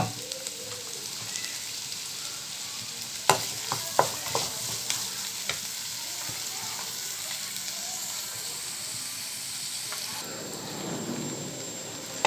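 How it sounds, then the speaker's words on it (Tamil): Onions sautéing in hot oil for vegetable masala patties, a steady close sizzle with a few sharp spatula taps early on and a louder crackle near the end, no talk. "வெங்காயம் கொஞ்சம் நேரம் வதங்கி வரட்டும்"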